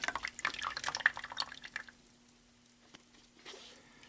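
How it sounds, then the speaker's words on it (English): Distilled water is poured off an egg in an osmosis lab, splashing and dripping in a quick patter that fades to near silence, then a few faint drips and a small clatter, with no talking. "We're going to pour the water off just like that."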